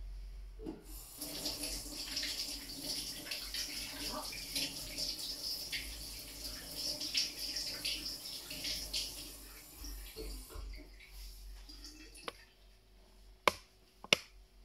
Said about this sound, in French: Je vais aller me rincer les mains